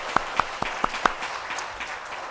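During a Korean church's Thanksgiving Sunday service, a small congregation gives a short round of applause: about five distinct claps land in quick succession, then the sound fades into soft room noise.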